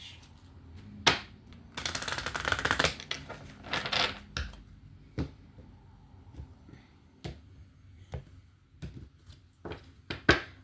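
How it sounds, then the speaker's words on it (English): A deck of tarot cards is shuffled close by, with one dense riffling burst and a shorter second one among sharp, isolated card snaps and taps. "One more shuffle for Sag."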